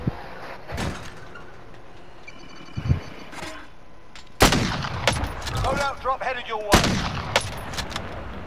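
Sniper rifle fire in a video game: a few sharp, loud reports spaced apart, with a heavy blast near the middle and another toward the end, mixed with clattering game effects and a faint voice.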